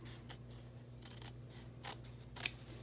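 Scissors snipping through denim jeans fabric along a thick seam, several crisp separate cuts in an irregular rhythm, close and quiet with faint background hum.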